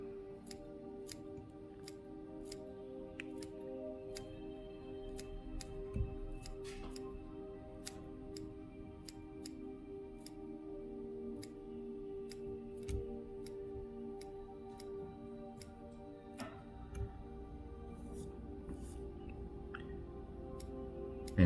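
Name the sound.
scissors trimming hair on a Muddler fly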